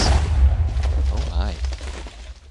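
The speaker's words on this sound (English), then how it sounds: "here's the explosion size of the reactor" A reactor explodes in the Minecraft Warp Drive mod, a loud deep boom that rumbles and fades over a couple of seconds with a faint voice underneath.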